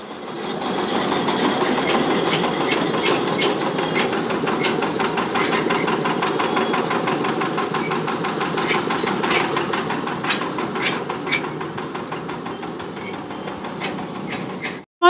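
Self-powered mixer machine, built to run on its own engine without a tractor, chugs steadily and loudly for the whole stretch with repeated mechanical clatter and ticking over the drone, ending in an abrupt clunk.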